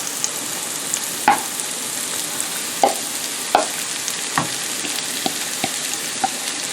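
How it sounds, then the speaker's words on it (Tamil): Leeks and pepper sautéing in a pan give a steady close sizzle, broken by sharp clicks and taps as the spatula stirs at uneven intervals. "இதுக்கு நான் வட்டி வச்சுருக்கிற லீக்ஸை போட போகிறேன். லீக்ஸையும் போட்டு வதக்கிறதுக்கு"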